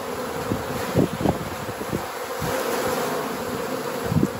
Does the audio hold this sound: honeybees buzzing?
yes